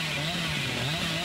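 Chainsaw revving in the Dead by Daylight video game, a steady buzzing drone held at a fairly even level for a moment, with no talking over it.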